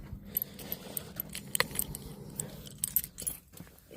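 A set of car keys for a Daimler XJ40 jangles and clinks in fitful bursts close by, light metallic rattles over a low background hum.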